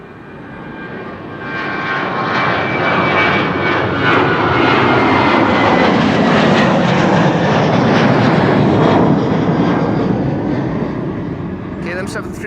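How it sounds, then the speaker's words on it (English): KLM Boeing 737 bound for Copenhagen roaring past at Amsterdam Schiphol Airport, a loud broad jet rush that swells and holds for several seconds before slowly fading, with a voice talking over it. "KLM 737 to Copenhagen"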